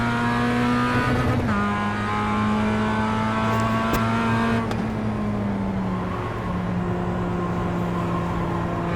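A race car in the iRacing sim game drones through a lap, its engine note holding and then dipping as it shifts and slows, with short sharp tire or contact noises over the continuous roar.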